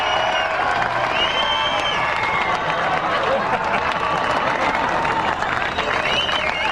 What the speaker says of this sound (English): Big round of applause for Mark Skaife.